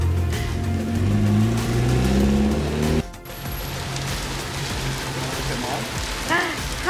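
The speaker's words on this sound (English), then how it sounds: "I think we're gonna wait out a little bit of the rain though." Rain falling outdoors in Mayaguez, Puerto Rico, a steady hiss of drops on surfaces with a low engine rumble in the first half that cuts off, followed by continuous patter and a few faint tonal chirps.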